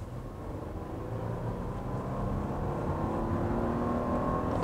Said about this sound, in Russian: Но радует разгон и звук от мотора.